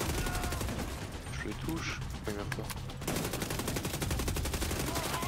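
Rapid PP19 submachine gun fire in The Division 2, dense continuous bursts that run almost the whole time with a brief pause in the middle, while someone speaks French over the shooting.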